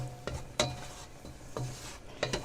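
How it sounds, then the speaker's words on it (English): A utensil stirs onions, garlic and sausage in an oiled pan, making scraping strokes that repeat about every second with light metallic clinks, and a faint sizzle runs underneath. "now we're going to mix all of this together"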